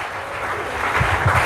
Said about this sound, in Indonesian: Tepuk tangan di atas kepala kita buat Tuhan